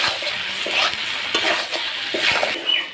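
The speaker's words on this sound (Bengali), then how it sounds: "ব্রয়লার মাংস কিন্তু বেশি কষাতে হয়" Broiler chicken is sautéed with spices in a little oil and stirred in a pan, giving a close, lively sizzle broken by repeated scraping and stirring strokes and a few light clinks of the utensil.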